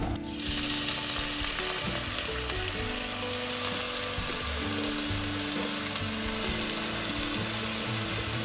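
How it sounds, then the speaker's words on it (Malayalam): Spinach hits hot oil in a pan, sending up a loud, dense, continuous sizzle that holds steady close by, with some clinking of utensils and no voices. "ഇപ്പം ഓയിലൊക്കെ ഒന്ന് ചൂടായി വന്നിട്ടുണ്ട്. അപ്പോൾ നമ്മളതിലേക്ക് ചീര ഇട്ട് കൊടുക്കാം."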